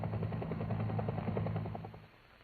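A Bell UH-1 Air Force helicopter flies past with a steady low rotor thump and engine drone, moderately loud at first, then fading over a couple of seconds.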